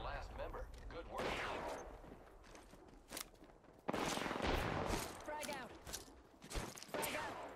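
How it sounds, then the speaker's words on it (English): Gunfire from the Apex Legends video game comes in rapid bursts and crackling volleys, with scattered footstep-like thuds between them, fairly loud and close in the game mix. "Enemies are shooting."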